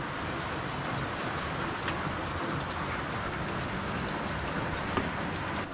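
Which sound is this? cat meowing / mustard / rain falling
rain falling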